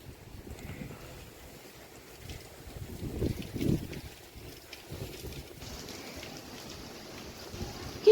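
Strong gusty wind lingering after Cyclone Remal rushes and buffets the microphone, with low rumbling surges rising and falling and a fainter steady background roar.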